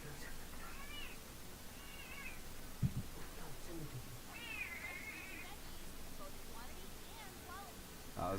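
A house cat meows several times, its drawn-out cries spread over a quiet background with faint thumps, and a person speaks softly at moments.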